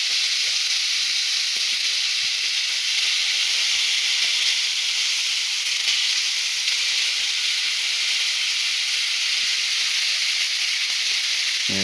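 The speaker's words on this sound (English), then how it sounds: "I have my pan preheated here on about a medium high heat. And so let's get started. Gently place the bacon in." Bacon strips sizzle and hiss steadily in a preheated pan on medium-high heat, a loud, continuous close frying crackle lasting throughout with no talking.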